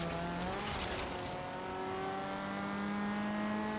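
A BAC Mono race car in Forza Horizon 3 revs and accelerates, its engine note climbing steadily in pitch and staying loud and continuous throughout.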